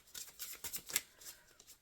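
Tarot cards being shuffled by hand make soft, quiet riffling and slapping bursts in an uneven rhythm, close by and with no speech.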